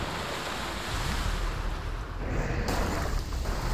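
A water miracle hurled into a burning village in the Black & White 2 game crashes down as a steady, loud wash of splashing water, with a brief lull before a fresh surge.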